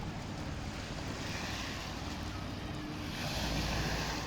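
Waves wash and splash along the Thames foreshore in a close, continuous rushing surge, with wind buffeting the microphone and the water swelling louder near the end, no voices.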